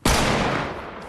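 A single sniper rifle shot in Fortnite cracks loud and close, its sharp report trailing off in a short decaying tail over about a second, with no talk.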